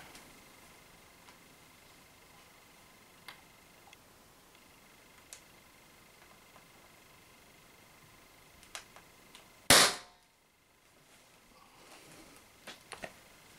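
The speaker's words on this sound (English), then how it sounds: "So, just shooting into my trap there." An Umarex HDS68 air pistol fires a single slug into a pellet trap indoors: one sharp, loud crack that cuts through a quiet room with scattered faint ticks before and after.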